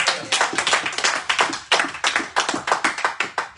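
A church congregation claps along in fast, rhythmic unison during a French-language worship service, the steady claps close and loud with no voices over them.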